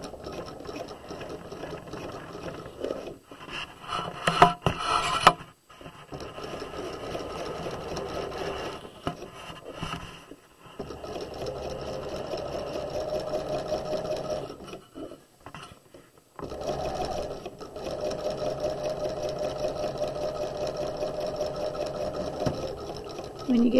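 A sewing machine runs in long stitching bursts along the crotch seam of pajama pants, its rapid mechanical whir starting, pausing and restarting, with short back-stitch stops in between.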